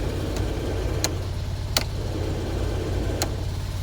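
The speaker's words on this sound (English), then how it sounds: "The blower works, so this probably has heat for however warm it gets." A steady low hum of an idling Fiat 126p with its heater blower fan whooshing inside the cabin, plus a few sharp ticks or clicks.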